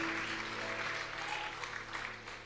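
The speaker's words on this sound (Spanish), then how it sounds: "I'm going to mañana. clap really hard. Yo voy a dar un aplauso." Steady, dense applause from a church congregation, a continuous wash of clapping heard at a moderate distance without any voices.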